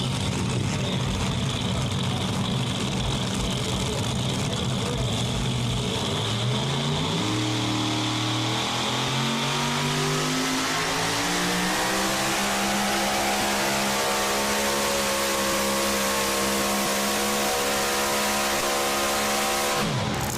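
A Dodge Ram pickup running a truck pull at the Holmes County Fair in Millersburg, Ohio, its engine roaring loud and continuous with pitch falling and rising again as it pulls, crowd noise beneath.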